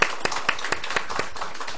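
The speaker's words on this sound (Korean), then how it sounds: "우리 박성주 어머니 뜨거운 박수 한번 해드릴까요?" Clapping for a mother being welcomed at a Korean gathering, with close, rhythmic handclaps over a bed of scattered applause from the room.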